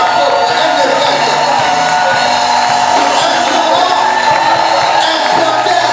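A church congregation cheers and acclaims loudly, a continuous roar of whoops, shouts and yells from a large crowd that holds at full level throughout.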